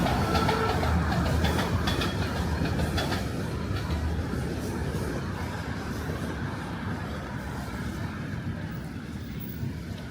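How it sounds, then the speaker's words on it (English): A northbound Toronto subway train rumbles past close by, loud at first with rhythmic rail clatter, then gradually fading as it moves away. "So, northbound subway train."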